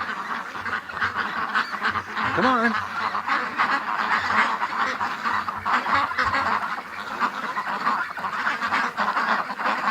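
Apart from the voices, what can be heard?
ducks quacking and honking while being herded into pen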